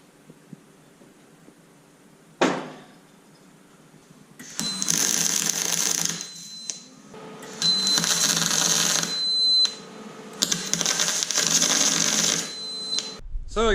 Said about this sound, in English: Get her welded in there